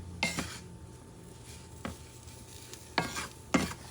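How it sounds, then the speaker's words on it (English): Farofa, toasted cassava flour, being stirred in a hot pan: soft scraping and a faint sizzle, with several sharper spoon-against-pan strokes spaced a second or so apart, close and quiet. "I'm going to mix everything together"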